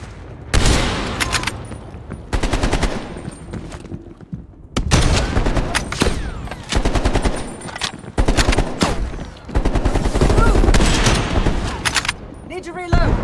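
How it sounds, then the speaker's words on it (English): Heavy gunfire in a Call of Duty Black Ops Cold War match: loud, close bursts of automatic fire and rapid volleys repeat across the clip with short gaps between, and voices talk among them. "they're shooting at us"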